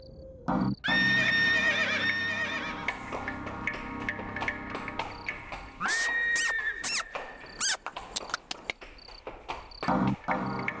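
A horse lets out a long, loud whinny, then a second shorter one, while crickets chirp steadily and faint hoof clops and squeaks sound between the calls.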